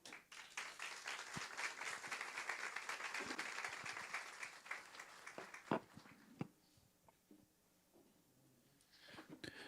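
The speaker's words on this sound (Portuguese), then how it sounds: "Mais uma salva de palmas para a professora." Audience applause for a teacher after her talk at a school violence-prevention forum, steady dense clapping for several seconds that thins out and fades to near silence, with a few scattered claps returning at the end.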